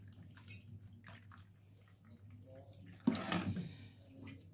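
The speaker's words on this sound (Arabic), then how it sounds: "ونروح منزلين عليهم ميه من الكاتل دافيه كده" Warm water poured from a kettle splashes over crushed garlic cloves in a kitchen, a short, fairly close burst of pouring that lasts about a second and a half, set against a quiet background.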